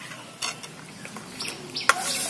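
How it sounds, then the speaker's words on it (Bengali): Potato paste being stirred slowly and continuously in a pan, with soft scraping strokes and a few light clinks of a spoon against the metal over a faint background hiss. "এবার এটাকে অনবরত আস্তে আস্তে নাড়তে থাকবো।"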